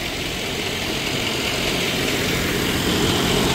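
A John Deere 5405 CRDI tractor drives a GS Rhinocer Series V rotary tiller cutting banana stalks, giving a steady, loud, unbroken engine drone with no talking.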